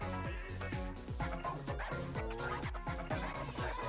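A dog yipping and barking in quick repeated bursts, steady and fairly close, with whiny rising tones between barks.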